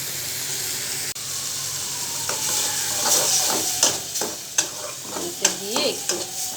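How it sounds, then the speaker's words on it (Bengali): Egg sizzling in a hot pan while cooking pumpkin, a steady frying hiss with repeated scraping and stirring clicks growing busier toward the end, no voices. "ডিমটা দিয়ে একটু ভেজে নিয়ে এটার মধ্যে মিষ্টি কুমড়াটা দিয়ে দেবো।"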